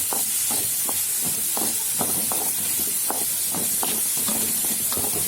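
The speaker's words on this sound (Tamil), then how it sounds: "வெங்காயம் நல்லா வதங்கட்டும்." Onions sizzle steadily in a hot pan for a capsicum masala, with a constant frying hiss and occasional light scrapes of stirring.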